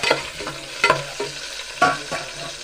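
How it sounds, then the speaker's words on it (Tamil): Garlic and spices sauté in a pan, with a continuous sizzle punctuated by repeated stirring scrapes and clatters of the utensil, close and clear, with no talking. "இப்போ நம்ம நல்லா வதக்கிடணும்."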